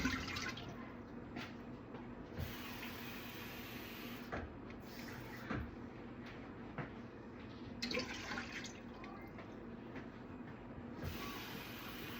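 Water runs steadily from a tap into a pot for boiling, a continuous rushing hiss with faint clinks, close by and without talking.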